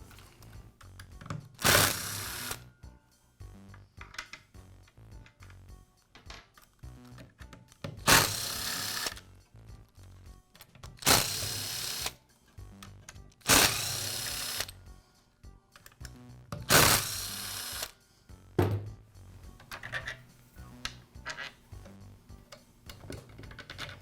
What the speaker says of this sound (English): remove the screws that secure the motor housing and the lower handle